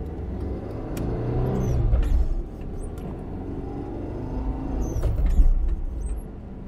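Citroen GSA car driving, its engine droning from inside the cabin with two swells as it accelerates and eases off, plus light rattles and clicks.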